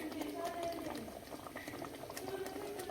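Sardine puli munchi curry bubbles steadily in a pot on a gas stove at home, a continuous soft boiling and simmering, with a voice talking faintly over it.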